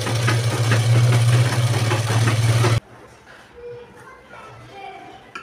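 Electric sewing machine running loud and steady for nearly three seconds while stitching a blouse lining, then stopping abruptly, leaving faint handling noises.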